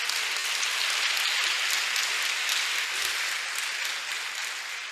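A church congregation breaks into sustained applause, a dense, even wash of many hands clapping that stays loud throughout and eases off slightly toward the end, with no speech.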